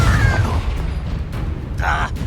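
A Confringo fire spell bursts with a low explosive boom in Hogwarts Legacy, a short blast heard once, loud and close, with the low rumble easing off afterward.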